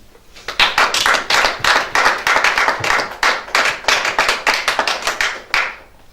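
A church congregation claps in worship, loud rhythmic hand claps in a steady fast beat, many hands together close by, sustained for several seconds before trailing off.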